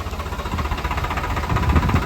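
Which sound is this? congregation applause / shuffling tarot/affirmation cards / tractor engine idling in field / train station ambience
tractor engine idling in field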